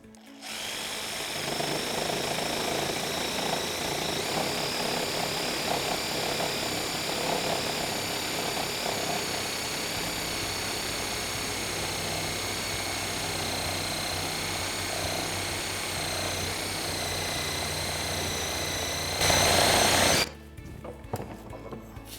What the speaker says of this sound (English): Let's see how these two saws do cutting through thicker material like this 4x4.